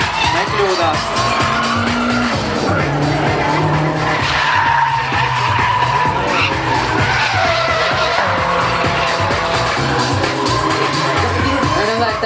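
A drift race car skids through a turn at a Latvian Drift Series event, its tires screeching and engine roaring loudly and continuously under a commentator's voice.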